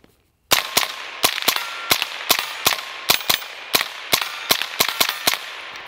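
A KRISS DMK 22 rifle fires 32 grain Stinger hypervelocity .22 rounds at 1,640 feet per second, giving a close, loud string of about sixteen sharp cracks in steady, rapid succession, roughly three per second.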